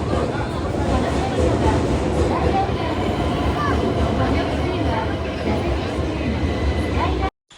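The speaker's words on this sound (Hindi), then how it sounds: "तो ट्रेन इज हियर" A Skyliner train at Narita airport station in Japan, a loud steady rumble and rolling noise of the train, with voices faint beneath it, before it cuts off abruptly.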